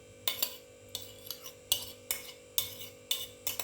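A knife chops an onion on a cutting board, a series of sharp, close, irregular taps and scrapes heard alone without any talk.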